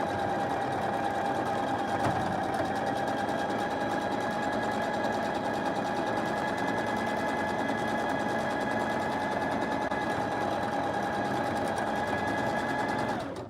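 A sewing machine runs in one long unbroken stretch, stitching fabric scrunchies with a steady, fast mechanical whir heard up close, stopping right at the end.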